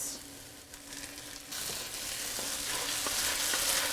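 Tomato sauce with vegetables cooking in a frittata pan gives off a soft sizzle that grows louder midway, with a few faint utensil taps over the bubbling.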